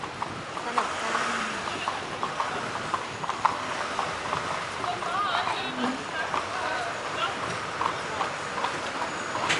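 Horse-drawn carriage hooves clip-clop steadily on a Vienna street, close and continuous for the whole stretch, with city noise and passengers' voices underneath.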